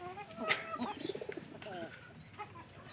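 Pigeons coo softly in a loft, a few low murmuring calls blending with faint background chatter and rustling.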